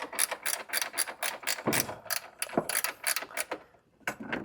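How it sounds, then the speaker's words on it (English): A ratchet wrench loosens a suspension bolt on a 2009 Toyota Corolla, giving close, rapid clicking in quick bursts with a short pause near the end and no talking. "I'm just gonna hold it while I am unscrewing that bolt."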